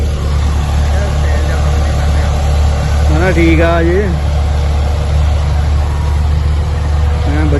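A steady, loud low drone from an Indo Farm tractor engine runs throughout, close and constant, with someone speaking briefly over it.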